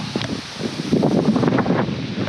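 Gusty wind ahead of storms buffeting the microphone outdoors at hunting food plots, a continuous rough rumble with rustling, no speech.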